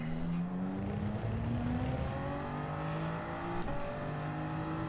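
Toyota Supra race car engine in Gran Turismo 7 at Monza, revving hard through gear changes with rising and falling whining pitch, loud and continuous close to the car.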